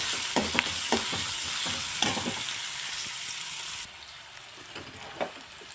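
Onions sizzle and crackle in a hot pan while a spoon scrapes and stirs them until golden brown; the frying noise drops to a quieter hiss partway through.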